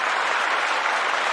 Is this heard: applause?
yes